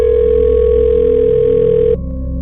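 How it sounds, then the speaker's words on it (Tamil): A steady electronic phone tone drones loud and unbroken for about two seconds as a call is placed from a cellphone, then drops to a quieter line hum, with no talking. "செல்போனை எடுத்து சாப்பாடை ஆர்டர் பண்ணினாள் ரமேஷுக்கு கால் பண்ணினாள்"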